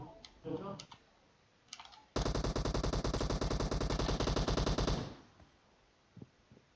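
Rapid sustained automatic gunfire in the mobile battle-royale game PUBG Mobile, a dense burst of roughly three seconds loud and close, with brief quieter game sounds and clicks before and after.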